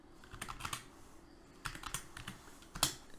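Fingers type on a computer keyboard in quiet, irregular bursts of soft clicking keystrokes, close by, with short pauses between runs.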